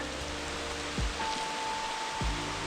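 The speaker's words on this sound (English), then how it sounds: "Raining in the rainforest, but it's cool because these rocks were all just starting to dry out" Rain falls steadily through an Australian rainforest with wet rocks, a continuous soft hiss with a couple of low thumps, no voices.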